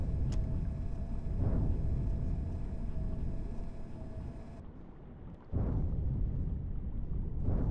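Depth charge explosions near a Type VIIC/41 submarine in the 1943 naval game UBOAT, heard as deep, heavy underwater booms over a constant low rumble, with a sharp cut before a fresh blast resumes the roar.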